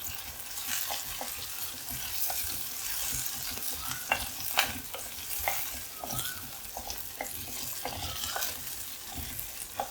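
Ginger, green chillies and curry leaves sautéing in a pan, a steady sizzle broken by repeated scraping and stirring strokes of a spoon, close and continuous with no talk.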